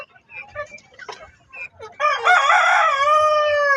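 Chickens in a coop where hens are laying eggs: a few soft, scattered clucks, then a loud, drawn-out squawking call that carries to the end, close by, with no talking.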